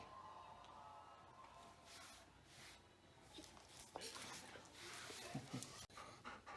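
A dog pants softly in a quiet room, a steady run of faint, breathy huffs over several seconds with no voices.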